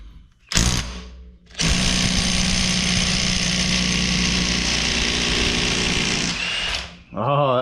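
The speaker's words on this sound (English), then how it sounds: "I'm going to hopefully pop it off with the impact." An impact wrench on a Can-Am Outlander 700 ATV removes a 27 mm axle nut: one short burst, then a long loud continuous hammering whir of about five seconds, close up, ending abruptly with a brief rattle afterward.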